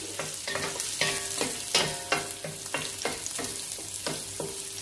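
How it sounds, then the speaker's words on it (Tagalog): Ginger and garlic sauté in a pan, a steady close sizzle broken by repeated sharp scrapes and clinks of a spatula stirring at a quick, regular pace, with no voices. "Mas gusto ko po na ginigisa yung ating ginger and yung ating garlic"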